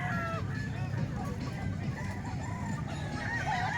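Roosters and hens at a poultry market crow and cluck close by, several calls overlapping above a steady murmur of background chatter.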